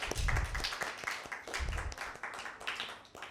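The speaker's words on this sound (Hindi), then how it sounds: "एरन के लिए ज़ोरदार ताली" Children and adults at a Father's Day program clap for a boy named Aaron, a dense, sustained round of applause heard faintly from some distance.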